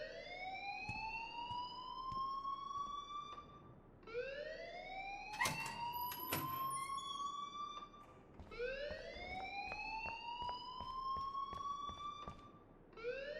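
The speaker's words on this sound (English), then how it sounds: "please turn off that alarm since that's your job." In the video game Life Is Strange, an electronic alarm wails in repeated rising sweeps, three long cycles in steady succession, loud and continuous, with a few sharp clicks in between.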